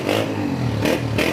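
A Honda CB125F motorcycle engine revs briefly up close, a throaty low drone with a rising rasp and slight clatter.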